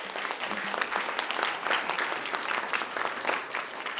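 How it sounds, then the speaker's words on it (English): An audience at a school art gallery awards event applauds in a moderately quiet room, producing a sustained, fairly even clatter of clapping throughout with no one speaking. "So I think we owe him a round of applause of appreciation as well."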